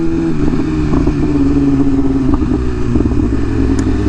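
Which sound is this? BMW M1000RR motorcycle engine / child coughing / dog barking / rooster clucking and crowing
BMW M1000RR motorcycle engine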